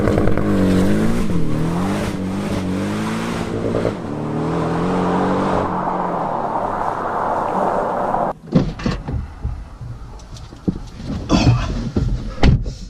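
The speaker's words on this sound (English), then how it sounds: "This car is equipped with sports exhaust" A four-cylinder Porsche Cayman with sports exhaust, engine revving and droning loudly up and down through the gears, then intermittent bursts and rumbles as it pulls away.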